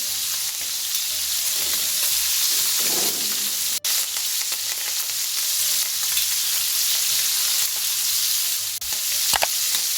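Bacon-wrapped shrimp frying in a pan with thyme, a loud continuous sizzle and crackle with a couple of sharp clicks and knocks, no voices.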